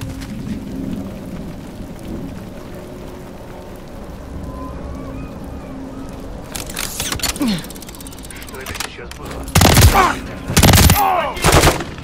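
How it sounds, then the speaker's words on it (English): Enemy gunfire in a Call of Duty game, sharp loud bursts of rapid shots arriving late after a quieter stretch of ambient game noise, with voices talking. "There's enemy fire."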